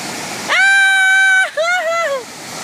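Steady rushing water from a waterfall fills the background while a voice calls out loudly over it in two drawn-out sounds.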